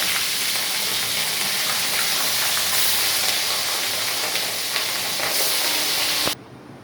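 Rohu fish pieces fry in hot oil until reddish, giving a continuous close hiss and sizzle that cuts off abruptly near the end.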